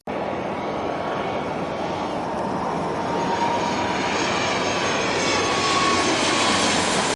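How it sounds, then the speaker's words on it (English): An airliner's engines roar loud and continuous as the plane lands and taxis, a broad steady rumble with a whine layered on top and no voices. "The plane descended gracefully and touched down. It taxied to a stop on the far end of the runway, engines still idling."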